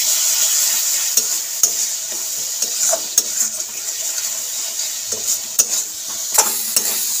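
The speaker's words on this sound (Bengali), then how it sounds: "অল্প একটু জল দিয়ে মশলাটাকে ভালো করে কষিয়ে নেব" A spice paste of chili powder and turmeric sautés in a pan with a little water, a close steady sizzle punctuated by frequent spatula clicks and scrapes against the metal.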